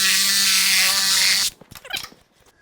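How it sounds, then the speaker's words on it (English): A power saw whines loudly through a 3-inch PVC drain pipe for about a second and a half, then cuts off, followed by clattering handling and rattling of the plastic pieces. "Then we'll cut the PVC here next."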